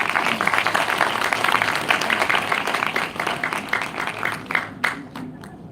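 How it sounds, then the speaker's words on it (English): Audience applause at a World Hand Hygiene Day 2025 event after a hand hygiene dance, fairly loud and continuous at first, then thinning into a few scattered individual claps toward the end. "Please give them a big round of applause."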